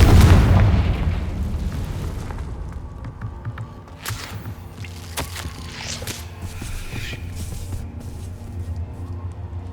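A Confringo explosive spell goes off in Hogwarts Legacy: a heavy, booming blast at the start, followed by scattered sharp bursts and pops as the rumble fades, with no talking.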